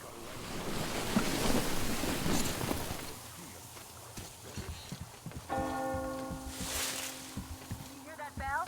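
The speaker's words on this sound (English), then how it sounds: "You hear that bell?" A church bell rings in the post-apocalyptic video game Metro Exodus, tolling at a distance over blowing wind and wave-like rushing noise, with a voice speaking in the latter half.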